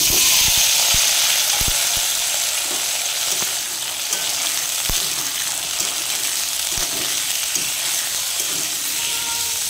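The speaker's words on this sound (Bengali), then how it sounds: "এবার আলুগুলো দিয়ে দেবো।" Potatoes fry in hot oil with a dried red chilli in a pan for aloo posto, a loud, steady sizzle running throughout with scattered clicks and taps from stirring.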